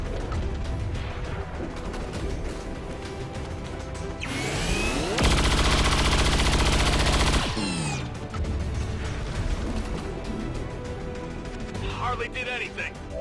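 Loud gunfire and explosive impacts from the video game XCOM 2 play over game music, building into a dense sustained burst in the middle before fading back under continuous background audio.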